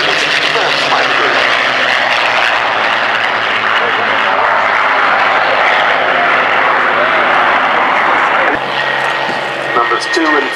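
Vintage WWII fighter aircraft engines roar loud and sustained as a formation flies over the Duxford VE Day airshow, with a commentator talking over the broad engine noise before it drops suddenly near the end.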